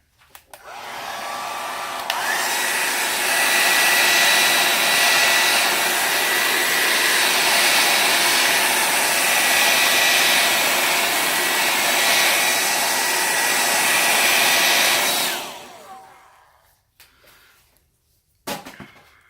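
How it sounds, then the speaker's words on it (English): A hair dryer roars steadily at close range, blowing on acrylic pour paint, for about thirteen seconds, then winds down and cuts off, followed by a few faint clicks. "I'm going to hit it with the blow dryer as well."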